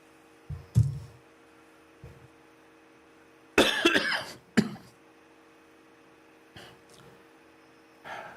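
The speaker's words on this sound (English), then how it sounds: "At least my coughs are productive." A man in Nicaragua coughs productively, a few close bursts of harsh, chesty coughing and throat clearing, separated by quiet pauses.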